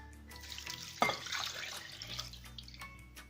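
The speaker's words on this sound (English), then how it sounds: "Next goes in the water." Water is poured into soaked rice in a microwave dish for vegetable pulao, a close, steady splashing pour that begins about a second in and continues to the end.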